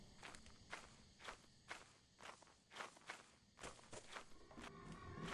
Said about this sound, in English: Why am I hearing two sets of footsteps?